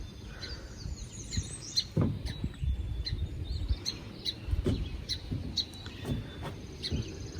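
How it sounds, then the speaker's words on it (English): Sparrows chirp near their nest, a busy scatter of short, sharp tweets repeating throughout at moderate distance over faint outdoor rustling, with no talking. "These sparrows that are making a ruckus."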